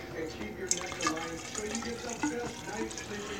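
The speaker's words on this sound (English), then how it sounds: "So let's pour this into the hydrometer." Homebrewed liquid from a first batch poured into a hydrometer, a steady trickling splash with drips running throughout.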